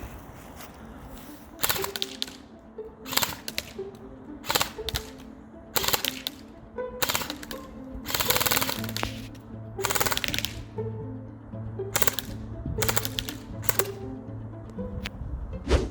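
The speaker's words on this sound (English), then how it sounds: "every like third or fourth shot, a BB will just wildly shoot like 5 feet above the fence" An E&L AKMS airsoft AEG firing BBs outdoors, a series of sharp mechanical bursts and single shots with short gaps between them, fairly close, while a low hum runs underneath.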